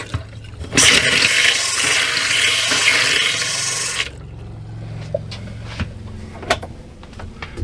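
Water rushes loudly into a tank for a few seconds, then eases to a lower trickling flow with scattered clicks and drips.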